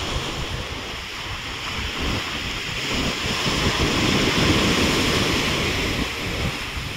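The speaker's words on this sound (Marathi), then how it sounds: "बघू शकता किती भयंकर समुद्र आहे इथला" Rough Arabian Sea waves roar in a continuous heavy wash at a Ratnagiri beach, mixed with strong wind buffeting the microphone, with no voices.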